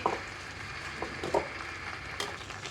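Spice paste sizzling in a pan while being cooked down for a soybean curry, a quiet steady fry broken by a few scraping stirs and clinks, no talking.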